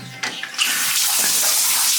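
Water from a hotel shower tap starts with a few clunks and splashes, then settles into a steady, loud hissing stream with no voices.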